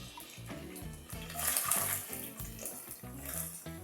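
Onions dropped into hot oil for bagara rice crackle and hiss in a faint, uneven sizzle that swells briefly in the middle, heard from a short distance with no talk.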